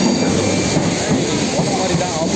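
A Chennai local train bound for Beach railway station roars steadily at the platform, a loud continuous rumble and rail hum filling the whole moment with no talk over it.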